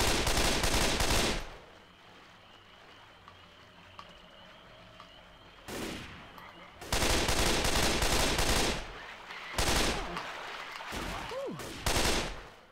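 Left 4 Dead 2 gunfire in the Swamp Fever campaign: several loud bursts of rapid shots separated by quieter gaps of low background noise.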